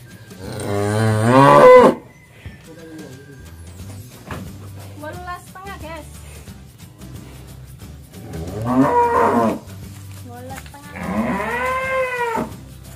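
Cattle on a farm with a new pen, including two new heifers, moo loudly and close up in three long calls spread across the stretch, with quieter barn noise between them.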